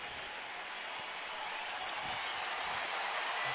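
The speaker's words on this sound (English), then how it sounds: "Well, crowd in full throat right here." A baseball stadium crowd cheering and applauding in a dense, sustained roar that swells slightly toward the end, with no voices distinct above it.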